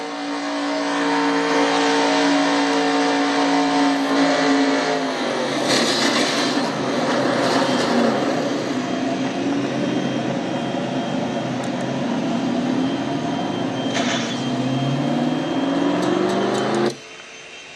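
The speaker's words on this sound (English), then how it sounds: "to jump on board Katie Webb's truck from inside her machine." A race truck's engine roars on board during the Ford EcoBoost 200 in the Traxxas Truck Series, loud and sustained at high revs, dropping in pitch around a shift before cutting off near the end.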